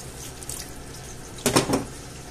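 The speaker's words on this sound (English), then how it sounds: "I'll just put a bit of water in here." Water poured into a cooking pot of stewed potatoes and clams, a short splashing gush near the end after faint trickles, close and brief.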